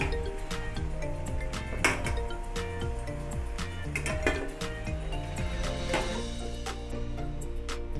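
Fried wheat bondas are lifted from the pan onto a plate, with repeated light metallic clinks and taps over steady background music.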